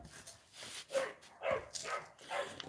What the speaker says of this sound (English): Sounds like there's a dog fight going on.